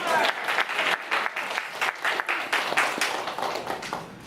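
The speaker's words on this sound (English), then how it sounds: "Please everyone give Renee a big round of applause." Audience applause after a student's speech in a classroom, a fairly close, dense patter of many hands with slight swells and dips, while faint voices murmur underneath.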